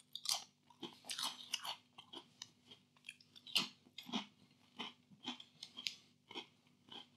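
Close, quiet crunching of Jacobs Cheddar Bites Red Leicester cheese crackers being chewed: a steady rhythm of crisp bites and mouth crunches with short pauses between them.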